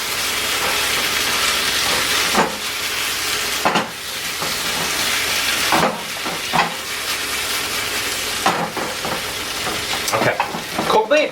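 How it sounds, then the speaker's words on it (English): Cumin beef sizzling steadily in a hot pan, with repeated scraping stirs of a spatula breaking through the broad frying hiss every couple of seconds, close and loud throughout. "I'm stirring it again, making sure it's evenly cooked."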